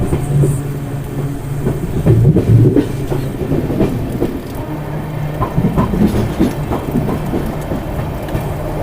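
An LHB coach of the Naini Doon Janshatabdi rolls over the rails with a steady low rumble and faint rhythmic clicking of wheels, continuous throughout with no talk.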